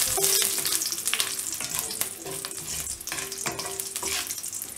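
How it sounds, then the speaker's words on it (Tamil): Mustard seeds and dried chillies fry in hot oil, giving a loud, steady sizzle with scattered crackles and pops as they are stirred, close by and with no talking. "கடுகும் காஞ்ச மிளகாவும் ஆட் பண்ணிட்டு இத நல்லா ஃப்ரை பண்ணி விட்டுருங்க."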